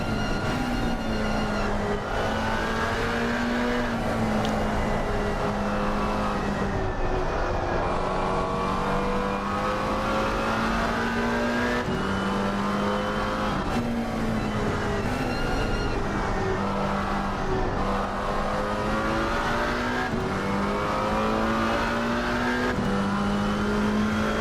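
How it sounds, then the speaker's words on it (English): Onboard sound from a McLaren GT4 race car lapping Paul Ricard circuit, its engine droning loud and steady with rising and falling revs through gear changes, continuous with no talk. "GT4 of Bahena, currently the furthest ahead. I believe the only McLaren GT4 on track."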